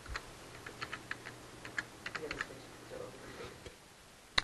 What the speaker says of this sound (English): I'm going to go and create my HTML document simply by typing in